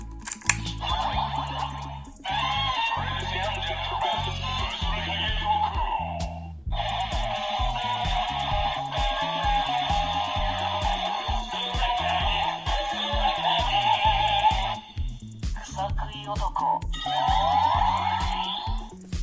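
A tinny electronic jingle plays from a DX Yo-kai Watch toy, with bright beeping melody phrases over a choppy, buzzy rhythm, briefly pausing between sections.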